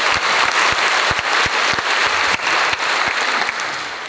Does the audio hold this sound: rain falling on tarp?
no